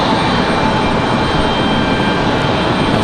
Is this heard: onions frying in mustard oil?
no